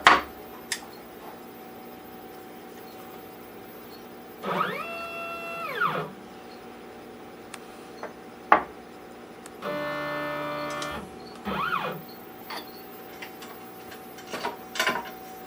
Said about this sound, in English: This is the finish cut 2 with an 1/8 inch tapered ball bit.